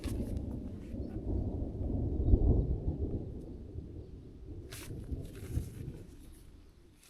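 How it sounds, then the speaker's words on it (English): Distant thunder rolls at a fall campsite, a faint low rumble swelling and fading over several seconds with light wind noise. "I've been just sitting here listening to the thunder roll on by."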